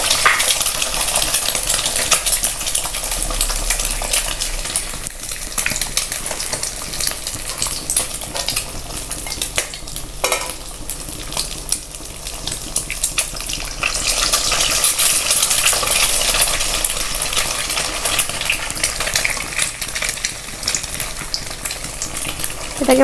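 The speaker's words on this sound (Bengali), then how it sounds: "এটাকে ভালো করে এবার ঝুড়ো ঝুড়ো করে ভেজে নেব।" Two eggs frying in a pan without onion while being scrambled into crumbly bits for an ash gourd curry, a loud continuous sizzle with repeated metallic spatula scrapes and clinks against the pan.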